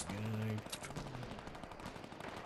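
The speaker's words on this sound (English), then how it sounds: "now I'm being shot at and that's bad" Faint, rapid gunfire from the video game Fortnite, quick crackling shots scattered across the moment, with voices talking over it.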